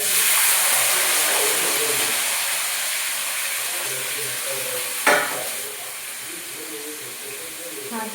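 Vegetables for homemade chowmein frying in hot oil while being stirred: a close, steady sizzle and hiss with occasional scraping of the spatula and a sharp clatter partway through.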